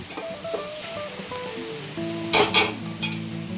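Stuffed brinjal curry with masala fries in oil in a pan, making a continuous soft sizzle under a faint tonal hum, with two brief louder scraping bursts of stirring near the end.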